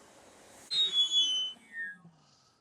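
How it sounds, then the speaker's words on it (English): A sudden piercing, high whistle cuts in over a faint hiss while an inflatable hot tub is being inflated, wavering and sliding downward in pitch before fading out. "That was a piercing whistle."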